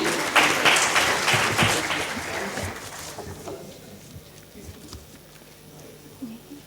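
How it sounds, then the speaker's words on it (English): A burst of crowd applause at a hospitality industry conference session, loud and dense at first, then thinning out and fading to scattered claps over a few seconds. "May we have a huge round of applause for him?"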